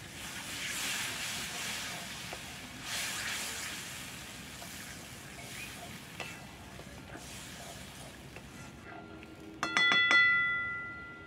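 Water poured into hot fried masala in a pot over a wood-fired clay stove while cooking handi chicken, giving a sudden loud sizzle and hiss near the end after steady crackling.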